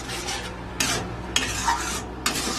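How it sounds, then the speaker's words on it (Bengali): Tomato chutney with dates and dried mango leather bubbling in a pot, a continuous soft sizzle and hiss with several bursts of scraping as a spoon stirs through it. "এবার কিছুক্ষণ সিদ্ধ হতে দেব।"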